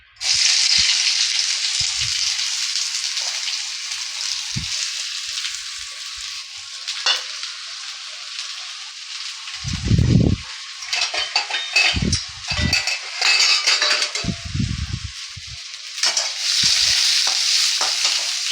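Onions for a vegetable spring roll filling fry in hot oil, a bright steady sizzle close by, with scattered scrapes and clunks of a utensil stirring against the pan.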